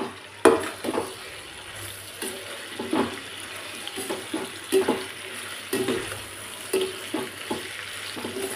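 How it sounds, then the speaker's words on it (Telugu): Chicken frying in a pan over high flame, a steady sizzle broken by repeated scraping and clattering strokes as the pieces are stirred, close and fairly loud. "ఇంతవరకు ఫ్రై చేస్తున్నాను. ఇలా వేసిన తర్వాత ఒకసారి కలుపుకోవాలండి మనం."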